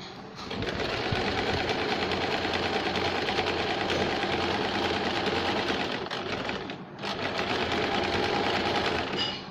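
A sewing machine runs steadily as it stitches the waistband of a dhoti salwar, a loud, continuous whirr with one short break near the end.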